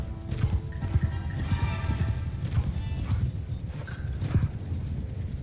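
Cavalry horses galloping in the Mount & Blade 2 battle game, heavy rhythmic hoofbeats thundering close with occasional whinnies and clanking gear over a busy battlefield.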